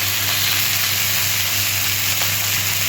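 Turmeric dropping into a hot pan of frying cauliflower, a loud, even hiss of sizzling oil holding steady throughout, close and continuous with no talking.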